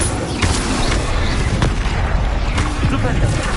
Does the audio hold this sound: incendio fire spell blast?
yes